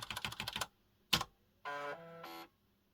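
Keys clacking on a MEGA65 computer keyboard: a quick run of close taps, one sharper keystroke, then two tonal beeps from the machine.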